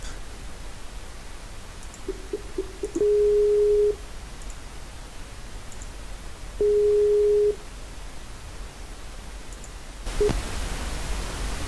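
A tonal call signal repeats twice, each a steady electronic ring lasting about a second, with short blips before the first, over a hiss of background noise.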